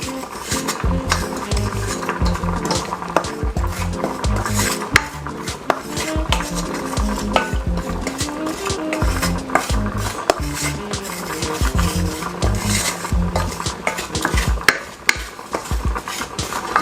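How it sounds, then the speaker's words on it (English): Jamaican prawn curry cooks in a pot as a spoon stirs and scrapes it, making busy, close clatter and knocks with a faint sizzle underneath. "Let's burn the curry for a little bit."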